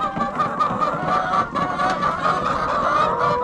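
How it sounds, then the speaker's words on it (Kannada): A flock of chickens on an integrated sheep and poultry farm clucks and squawks in a dense, continuous chorus close by, with no talking. "ಚೆನ್ನಾಗಿದೆ ನೋಡಿ, ಎಷ್ಟು ಆರೋಗ್ಯವಾಗಿದಾವಲ್ಲ ಕೋಳಿಗಳು"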